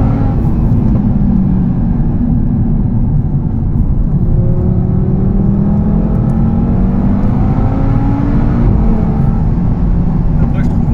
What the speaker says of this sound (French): le départ arrêté, il est incroyable